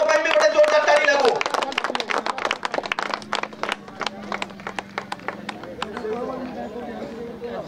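Applause and clapping for a prize winner at a cricket post-match presentation ceremony, a dense burst of hand claps mixed with crowd chatter and a speaking voice, thinning into scattered claps.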